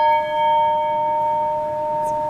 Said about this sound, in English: this is the sound of Crystal